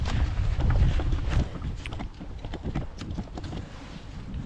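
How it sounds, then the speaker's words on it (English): Wind gusts across an outdoor yard during a late-fall leaf cleanup, a steady low rumbling buffet against the microphone that swells and eases without a break. "the wind's picking up"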